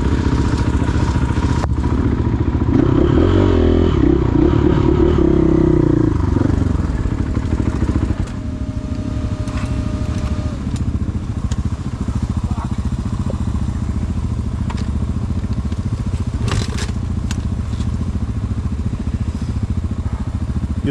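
Motorcycle engine running steadily up close, a loud rumbling idle with a rising rev early on before settling into a constant throb, with occasional clatter and brief voices in the background.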